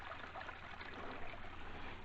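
Stream of water flowing over rocks on a hiking trail at Hawk Mountain's River of Rocks, a faint, steady gurgling rush with no voices during the brief stretch.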